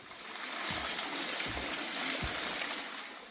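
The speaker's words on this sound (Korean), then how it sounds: "동굴 바로 옆에는 주황이 매일 세수를 했다는 폭포수가 흐르고 있는데요" A waterfall beside a small cave at a Korean mountain temple gives a steady, soft rushing of water, with a few faint low thumps.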